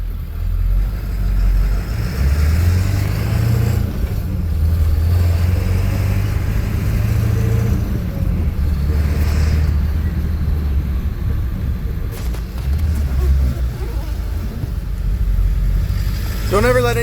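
A Ford F250 truck engine drives along, its loud low drone rising and falling steadily with manual gear changes, an occasional rattle, and a brief whine near the end.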